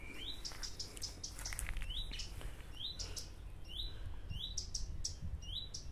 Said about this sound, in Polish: Pomocnik słucha, jak ptaszki śpiewają.